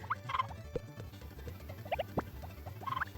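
Short clucking and chirping calls from chickens in Harvest Moon: Back to Nature pop up at intervals over a steady low electronic hum, fairly close and moderately loud.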